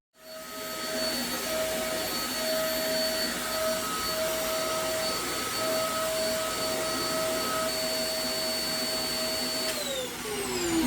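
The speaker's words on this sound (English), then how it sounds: "Zanuck is sucked into a Bandosian coffin with the similar force of a fancy Dyson vacuum." Steady, loud vacuum cleaner whine with a constant motor hum and whistling tones, running alone for about ten seconds as a sound effect.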